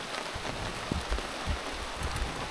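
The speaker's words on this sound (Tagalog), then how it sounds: "Naulan na sa camp." Rain falling at a Sierra Madre mountain camp, a steady soft wash of drops with occasional heavier patters close by, continuous and fairly quiet.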